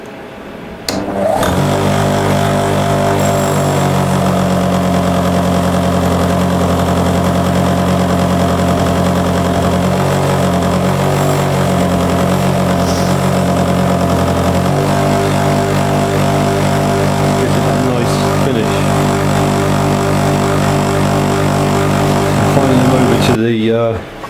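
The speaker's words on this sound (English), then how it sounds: "The Linisher again with a 600 grit very fine belt on the machine, just to take the scratches out and polish up the bevel." A linisher belt sander running a very fine 600 grit belt while polishing a knife bevel gives a steady, loud mechanical drone and hum that holds evenly for the whole stretch, with a brief shift partway through.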